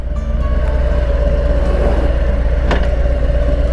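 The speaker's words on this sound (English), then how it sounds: "Classic Harley sound" A Harley-Davidson motorcycle engine running at idle, a loud steady low rumbling throb close by with a brief mechanical click partway through.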